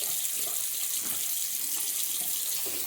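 Tap water runs steadily from a faucet into a sink while it heats up, a constant close hiss and splatter that stays even for a few seconds with no voices.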